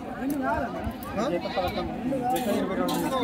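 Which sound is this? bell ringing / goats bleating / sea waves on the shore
goats bleating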